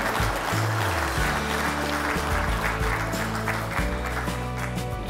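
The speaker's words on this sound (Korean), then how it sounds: "여러분들 전달할 때 큰 박수 부탁드리겠습니다." An audience at a Korean newspaper's 30th-anniversary book publication ceremony claps in a full, continuous round over low background music, the applause staying even and fairly close throughout.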